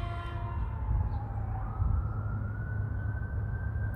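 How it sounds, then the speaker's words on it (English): Emergency vehicle siren wailing on a street in Los Angeles, a steady rising tone heard at moderate distance over heavy low traffic rumble. "I'm in Los Angeles and the alarm is going off."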